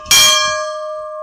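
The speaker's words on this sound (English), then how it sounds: "This is Fred the Bell." A large outdoor camp bell struck once, a loud clang that leaves a long, pure ringing tone slowly fading over the following second.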